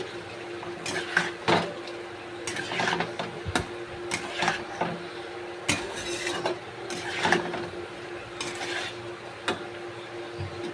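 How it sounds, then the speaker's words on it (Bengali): Spicy chicken and potato curry being stirred in a pan, with repeated scraping and clinking of a utensil against the metal in irregular strokes, close and moderately loud, no voices. "এবার আমি আবারও একটু নেড়ে নেব।"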